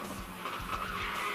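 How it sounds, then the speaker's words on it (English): A sports car at a Watkins Glen race in the 2012 Rolex Sports Car Series skids during a scary collision, giving a steady, harsh tire scrape and roar that lasts the whole short moment, close and without talk. "this pretty scary collision and contact"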